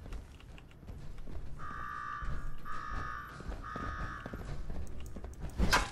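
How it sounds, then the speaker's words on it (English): An alarm in Fallout 4's Nuka World sounds as three repeated tonal blasts of steady, moderately quiet ringing over low background rumble, ending with a sharp clank. "Now go shut off that damn alarm."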